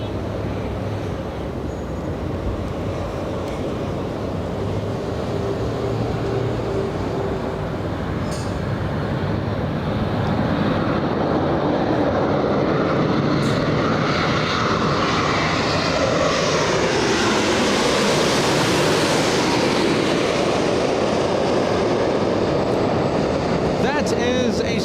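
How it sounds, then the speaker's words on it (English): A Boeing 787-8 airliner arriving from Tokyo Haneda passes low overhead while landing at Los Angeles International Airport, its engine roar loud and building, with a sweeping pitch shift as it goes by. "787-8 flying in from Tokyo's Haneda. A 9-hour, 49-minute flight, landing right overhead and touching down right in front of us."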